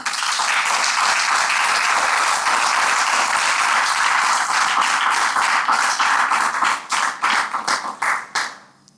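A church congregation claps together in a long, loud burst that thins into a few scattered claps before stopping.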